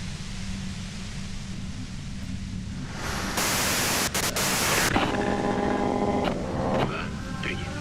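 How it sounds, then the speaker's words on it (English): Loud white noise from a video game hisses across the whole range, swelling into a harsher, brighter burst midway, then shifting to steadier static with faint tonal beeps and clicks near the end. "If you've got something really important to say, you can do it through the white noise."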